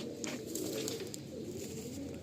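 Pigeons cooing softly in a loft, a low continuous murmur of overlapping coos with faint chirps above, no voices.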